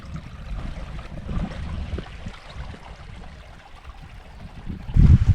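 A small creek in Crows Nest National Park, Queensland, flowing with a steady low rushing and trickling murmur, fairly close and continuous, with a louder surge near the end.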